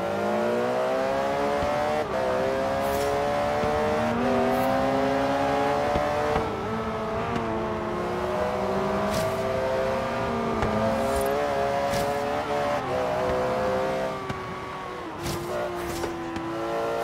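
A race car engine in Forza Horizon 3 screams and revs continuously on a figure-eight track, pitch rising and falling through gear changes, with brief tire squeals, loud and close throughout, no talk.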